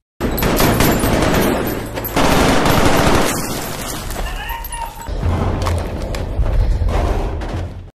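Rapid bursts of gunfire echo in a tunnel, loud and sustained in several volleys with short breaks between, in the film Sicario.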